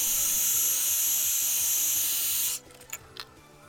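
Heat gun blows a steady, loud hiss while shrinking heat shrink tubing on button wires, then cuts off abruptly, leaving a few faint handling clicks.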